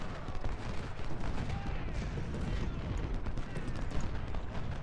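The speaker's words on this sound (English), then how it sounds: "Owen, can you start counter-battery fire here?" Artillery counter-battery fire in Ultimate General: Civil War, a continuous roll of distant cannon booms and scattered musketry blending into a dense, rumbling battle din without a break.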